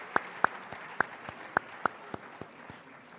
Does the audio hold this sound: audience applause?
yes